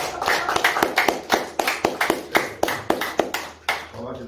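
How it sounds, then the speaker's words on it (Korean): An audience at a lifelong-education meditation lecture claps in thanks, a loud, close burst of sharp, individually distinct claps in a quick uneven rhythm, slowing and breaking off near the end. "큰 박수 한번 부탁드립니다"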